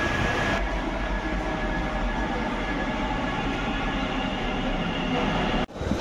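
A Kolkata metro train rumbles steadily and loudly close by, a dense continuous roar of wheels and carriage noise that drops away abruptly near the end.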